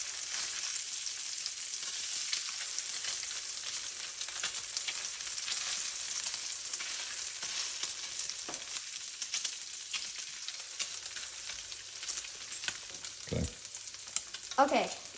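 Bacon frying in a pan, a steady close sizzle and spatter running throughout with a few brief clatters of a utensil near the end.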